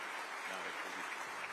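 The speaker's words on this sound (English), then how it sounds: "a round of applause for President Macron" Steady, faint applause fills the plenary hall of a Franco-Albanian economic forum in Tirana as the audience claps for President Macron, a continuous wash of hands heard at a distance.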